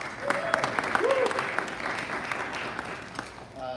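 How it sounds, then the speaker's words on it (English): Audience applause in a full room at a Rotary club meeting, steady clapping from many people that carries through the clip and fades slightly near the end, with a voice briefly audible over it. "I want us all to give ourselves a hand for a full room today"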